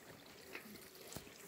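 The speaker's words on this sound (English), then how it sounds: "the sound of beautiful rainwater in this creek." Soft, steady trickle of rainwater flowing in a rainforest creek, fairly faint and continuous, with a couple of brief splashy accents and no voices.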